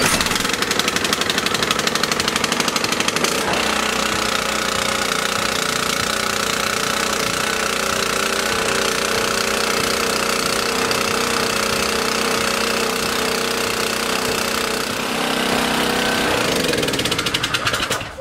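An old 1987 small engine running after being pull-started, loud and steady with a rough knocking mid-range drone, close by, continuing with little change for the whole stretch before cutting off at the end.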